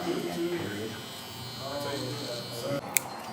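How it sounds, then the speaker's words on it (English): A TPOB X hair clipper and trimmer run straight out of the box, a steady close electric buzz with a faint voice underneath and a sharp click near the end. "the clipper and trimmer set so y'all can see them things work in unison"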